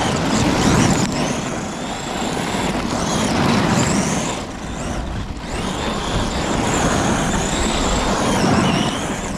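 An Arrma Gorgon RC truck blasts through loose sand with a loud, continuous whining motor and a gritty spray of sand, surging and dipping briefly midway before pushing on.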